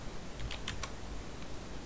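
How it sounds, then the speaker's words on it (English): Someone types a password on a computer keyboard, a few soft quick keystrokes heard faintly over steady background hiss. "I will be typing in my password."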